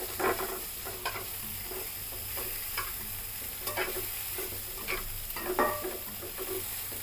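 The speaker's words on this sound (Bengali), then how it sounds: "দেওয়া হয়ে গেছে, একটু নেড়ে চেড়ে নিতে হবে।" Carrots, coriander leaves and green chillies with mustard seeds are stirred in a frying pan for vegetable upma, an utensil scraping in irregular strokes over a soft, steady sizzle.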